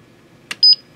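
A Wecon HMI panel wired to PLCs gives its alarm: a soft click, then two short, loud, high beeps in quick succession against near silence.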